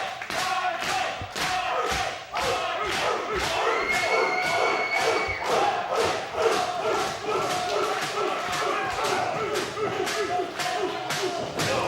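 A packed crowd roars and shouts at a UCW-Zero professional wrestling show as two wrestlers square off in the ring, the dense cheering loud and continuous with rhythmic thuds throughout.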